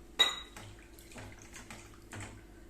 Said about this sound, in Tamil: இப்போ கொஞ்சம் தண்ணி ஊற்றிட்டு ஒரு அஞ்சே நிமிஷம் நம்ம வேக வச்சு எடுத்துக்கலாம்